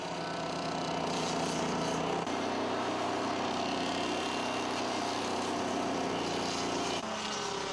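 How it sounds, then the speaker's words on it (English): A Dingo mini loader drives a stump grinder attachment, its engine droning steadily and loudly with a constant grinding roar and slight shifts in pitch throughout, no voices. "has enough power to run the stump grinder without the need for the stump grinder to have its own engine"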